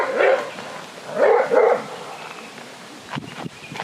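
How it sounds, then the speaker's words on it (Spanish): Dogs barking outdoors in two close bursts of several sharp barks each, followed by quieter rustling and a few faint thuds. "Ese ladrido de los perros me acabo de dar una idea"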